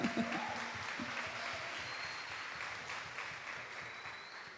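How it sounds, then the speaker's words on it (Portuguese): An audience at a book launch event claps steadily for a few seconds, a quiet, diffuse patter of many hands that slowly fades. "Henrico, aplauso para Henrico."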